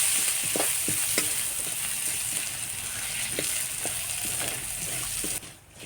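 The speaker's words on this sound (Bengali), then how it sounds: "থেতো করা রসুনগুলো আমি দিয়ে দিব। তারপর নাড়াচাড়া করবো, একটু বাদামি কালার হতে দিব।" Crushed garlic frying in oil while being stirred, a steady bright sizzle broken by scraping utensil strokes against the pan, close up, cutting off near the end.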